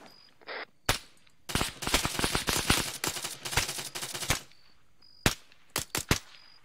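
Gunfire in a military shooter video game during a prison rescue operation: sustained rapid automatic bursts, close and loud, followed by a few sharp single shots after brief pauses.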